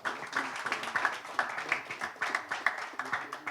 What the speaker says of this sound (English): Ladies and gentlemen, big round of applause for Harsh Mehta.